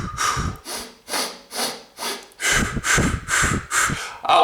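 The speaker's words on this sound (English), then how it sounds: "get up, breathe like this" Forceful, deep oxygenating breaths drawn close to the microphone in a rhythmic series, each rushing inhale and exhale rasping like a saw stroke, at first spaced apart and then coming faster and heavier.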